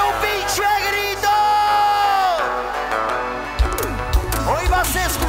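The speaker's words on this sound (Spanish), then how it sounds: "regálame un pinche grito" A concert crowd at a cumbia show in Ixmiquilpan, Hidalgo, Mexico, shouts and whoops loudly, with long rising and falling yells over a dense roar and some thumps.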